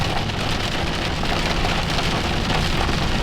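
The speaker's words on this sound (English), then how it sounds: "It's dumping rain." Dense, heavy record-breaking rain in Utah drumming steadily on a hard surface close by, a constant loud hiss with no pauses.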